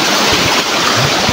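A flooded river in Nepal rushes over a washed-out, damaged road, a loud, continuous roaring wash of water with gusty wind buffeting the microphone.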